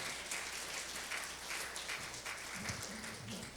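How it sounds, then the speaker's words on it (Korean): Church congregation applauding during a Sunday worship service, a soft, distant wash of clapping that holds steady for a few seconds, with a faint voice low underneath. "큰 박수로 우리 함께 환영하도록 하겠습니다"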